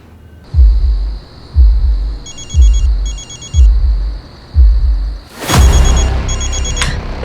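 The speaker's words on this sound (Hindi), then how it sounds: "ध्रुव के नंबर से फोन आ रहा है।" Telephone bell ringing for an incoming call, repeated short electronic ring bursts with a steady high tone, alongside rhythmic low booming thuds, ending in a loud noisy burst.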